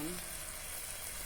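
Channa fish and spices frying in a pan in village cooking, a brief, quiet, even sizzle with a faint stirring texture and a low murmur at the very start.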